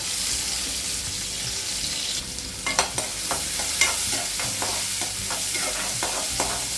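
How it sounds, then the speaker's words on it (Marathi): Onion frying in oil in a pan for a Marathi fish curry, a steady close sizzle with a run of sharp stirring scrapes and clinks through the middle and end, no voices. "कांदा चांगला भाजून घेते तेलामध्ये"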